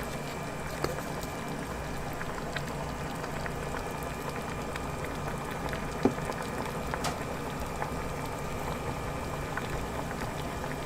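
Water boils steadily in a pot while longganisa sausages cook in a second boil seasoned with pepper, giving a constant bubbling roar. A faint tap or clink cuts through it once and no one speaks.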